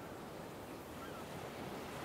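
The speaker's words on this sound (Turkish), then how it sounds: "duymuyor musun dalga seslerini?" Ocean waves wash in a steady, broad hiss and rumble, faint and continuous with no distinct breaks, with a touch of wind and no voices.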